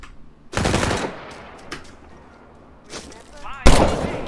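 Bursts of gunfire in The Culling 2 battle royale game, a loud sustained rattle followed by a single sharp shot a few seconds later, with quieter game sounds in between.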